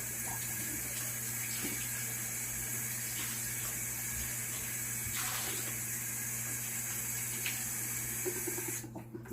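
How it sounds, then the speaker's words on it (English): A kitchen tap runs steadily for several seconds, a continuous moderate rush of water with no talking, cutting off near the end. "And of course you guys are going to hear some running water."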